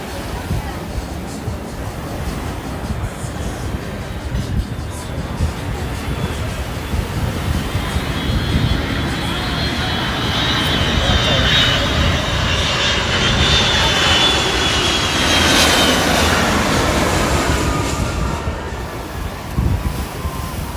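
A Delta jet airliner lands at Maho beach, Sint Maarten, heard as a loud, sustained engine roar that swells and sweeps past over about twenty seconds, mixed with wind and surf.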